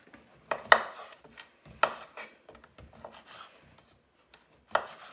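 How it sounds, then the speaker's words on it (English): A knife slices through smoked sausage on a cutting board in a few sparse, quiet, close-up chops separated by pauses. "We're just gonna slice up our smoked sausage and prep it up as well."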